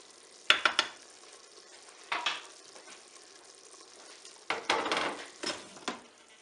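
Minced beef steaks frying in a Cookeo multicooker pot, giving short bursts of sizzling and stirring scrapes at the start, middle and end, with quieter crackle between them and no talking.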